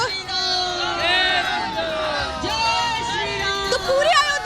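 Large crowd of devotees gathered in Ayodhya, a dense babble of many voices with chants and calls rising and falling, steady and loud throughout.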